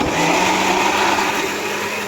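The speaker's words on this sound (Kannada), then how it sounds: "ಈಗ ಮಿಕ್ಸಿಗೆ ಹಾಕ್ಕೊಳ್ತಾ ಇದ್ದೀನಿ ನೋಡಿ ರುಬ್ಬಕ್ಕಿಡ್ತಾ ಇದ್ದೀನಿ" A kitchen mixer grinder whirs steadily and loudly while grinding a spice paste for a sprouted-bean and potato sambar, a continuous close motor drone with no talking.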